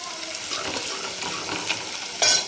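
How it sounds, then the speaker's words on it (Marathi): Crushed garlic and ginger sauté in hot oil with a steady, close sizzle and light stirring scrapes, ending in a short louder hiss. "लसूण आणि आलं ठेचून एक मिनिटभर परतून घ्यायचं"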